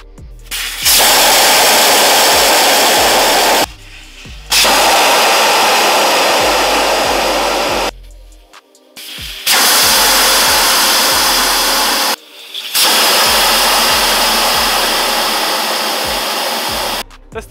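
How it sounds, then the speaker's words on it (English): Air blasts loudly out of 35-inch tyres through dump valves, four long roaring hisses with short silent gaps between them, close and steady. "That's the joys of having dump valves. Nice and easy to air down."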